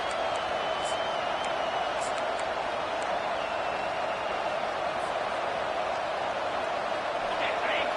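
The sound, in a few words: home crowd cheering at football game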